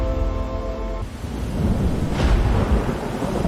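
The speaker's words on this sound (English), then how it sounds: "Lightning strikes the sea, millions of bolts per day." Thunder from lightning striking the open sea rolls in as a deep, growing rumble, with rain and wind noise underneath and a faint tonal hum fading out early.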